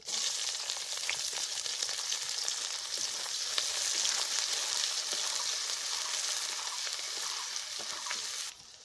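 Onion and green chili fry in hot oil with a steady, loud crackling sizzle that continues without a break and ends abruptly.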